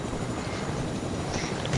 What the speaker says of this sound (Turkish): Adam bindi helikoptere.